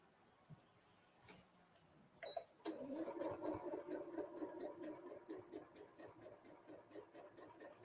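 A sewing machine stitches a vintage Christmas quilt block, starting after a few soft clicks and running at a close, steady rhythmic chatter for several seconds, moderately quiet.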